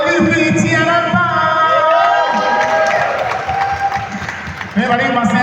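An audience at a film press conference and meet-and-greet claps and cheers loudly, mixed with voices, music tones and crowd noise, briefly dipping before swelling again.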